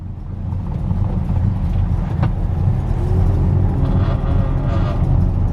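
Car on its first test run on a track, heard from inside as a loud, steady low engine drone and rumble with a brief click partway, no talking.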